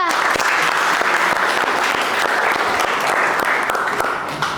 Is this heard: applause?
yes